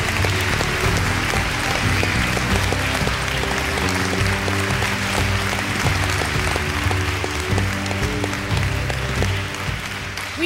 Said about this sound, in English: will you help us give them a very, very warm round of applause?